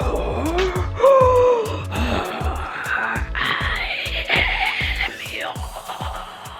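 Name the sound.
heavy Darth Vader-style breathing imitation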